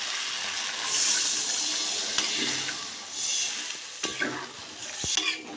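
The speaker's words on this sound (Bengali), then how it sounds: "আমি এবার জল দিয়ে দেবো।" Water poured into a hot pan of frying potatoes and pointed gourd for a Bengali curry, giving a loud steady sizzle and hiss with scraping stirs and a few sharp clinks.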